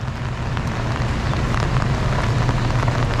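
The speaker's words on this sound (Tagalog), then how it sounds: "Sarap buhay, lakad-lakad sa ulan." Steady rain falls all around while someone walks outdoors, a dense continuous hiss with scattered drop patter and a low rumble beneath, no pauses.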